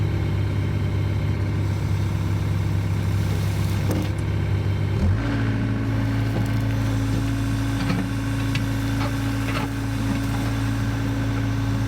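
A rented excavator runs steadily while digging a hole, its diesel engine droning loud and close. The pitch shifts midway as the engine works harder, and faint clanks and scrapes come and go.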